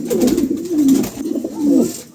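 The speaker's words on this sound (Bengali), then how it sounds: "খুবই চমৎকার এক জোড়া কবুতর" A pair of pigeons coos close by, with low, throaty, rolling calls that repeat in a steady back-and-forth rhythm and no talking.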